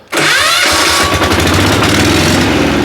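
A diesel walk-behind tractor engine catches and revs up close and loud, settling into a steady, rough throbbing at raised speed.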